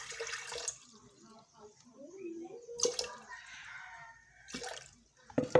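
Liquid being poured into a measuring beaker during soapmaking, heard as a few short splashing bursts between quiet stretches, fairly close and soft.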